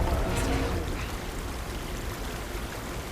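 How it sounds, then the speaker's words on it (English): Water pours steadily out of a tank in the video game Horizon Forbidden West, a continuous rushing stream that is loudest at the start and then settles into an even flow. "Water's pouring out of this tank."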